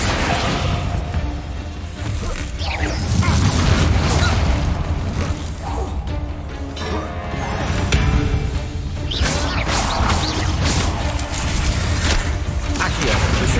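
Confringo spell blasts in Hogwarts Legacy burst in repeated booming crashes with whooshes and debris, loud and close amid game effects and occasional voices.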